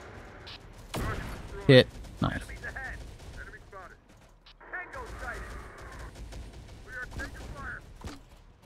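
A .50 caliber machine gun fires at a Humvee in the Terminator: Dark Fate game, bursts of heavy gunfire and sharp impacts scattered among game voice alerts and someone speaking over the combat.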